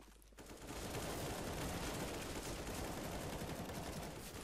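Dense, continuous gunfire from the video game CS:GO, a loud rapid barrage of overlapping shots that swells after a brief quieter start and holds steady throughout.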